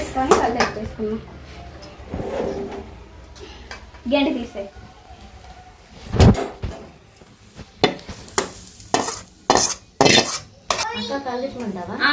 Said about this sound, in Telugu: అన్నం కర్రీ మొత్తం కలిసేంత వరకు కలిపి